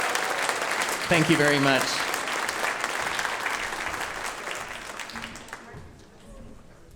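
An audience claps steadily for an incoming storyteller at a live storytelling event, with a brief spoken thank-you over the applause before it fades out near the end.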